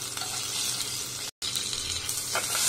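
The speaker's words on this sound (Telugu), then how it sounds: "తాలింపుకి అన్ని వేసి ఫ్రై చేసుకోవాలి" Spices and tempering ingredients fry in hot oil in a pan for tomato chutney, giving a steady loud sizzle with a brief cut in the middle and no talking.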